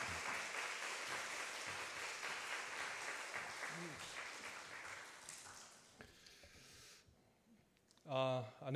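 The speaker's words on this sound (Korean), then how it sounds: "박수로 환영하겠습니다." Church congregation at a Wednesday evening service applauding a visiting pastor and church members in welcome, a broad sustained wash of clapping that tapers off, then speech begins.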